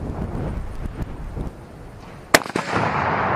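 Mosin rifle shots ring out outdoors, a few sharp cracks amid rough background noise, with one loud, crisp report standing out clearly and a brief echo after it.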